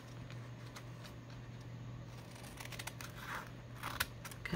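Scissors snip through the paper of a junk mail envelope, cutting off its top. Soft, close cuts and crinkles sit over a steady low hum, growing a little busier toward the end.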